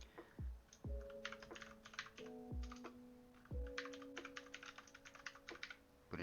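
Rapid computer keyboard typing while entering a remark in stock-take software, bursts of close, crisp key clicks with short pauses between, alone without talk.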